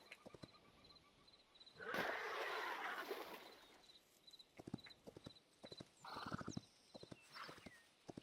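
A tamed horse in the Hytale video game clip-clops along in steady, fairly close hoofbeats, with a loud burst and a brief whinny-like sound partway through and no talking over it.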